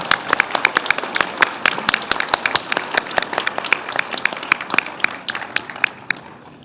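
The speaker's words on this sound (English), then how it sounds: "Everybody give our LPN to RN graduates a round of applause." Audience applause for LPN to RN graduates at a nursing pinning ceremony, crisp individual claps from a modest crowd, moderately close and irregular, tapering off toward the end.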